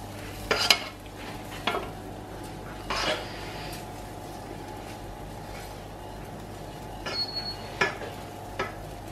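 Courgettes cooking in a pan, with a low steady sizzle under several separate scrapes and clinks of a utensil against the pan, fairly quiet and near.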